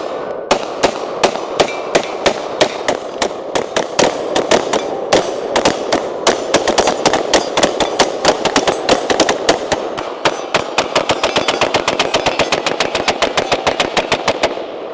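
A budget $349 rifle fires round after round in a long rapid string of sharp, loud, close shots, the pace quickening toward a fast steady rhythm near the end.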